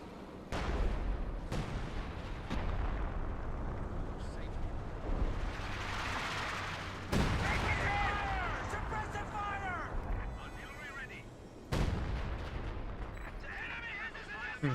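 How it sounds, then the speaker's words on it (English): Artillery barrage at maximum range in Company of Heroes 2, a run of heavy booming impacts scattering wide, with several sharp blasts rising out of a dense rumbling battlefield under continuous speech. "And the barrage is scattering everywhere. That's a max range barrage for you."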